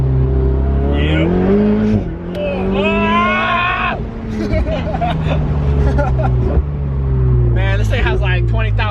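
A rebuilt Ferrari 488 engine revving hard and close, pitch climbing and falling through several loud pulls, with a brief dip in the middle before it roars again.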